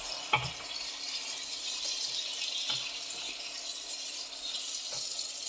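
Ingredients frying in a pan for matar shak (pea-leaf greens) with turmeric and salt, a steady soft sizzle with a few faint stirring clinks, close and quiet throughout.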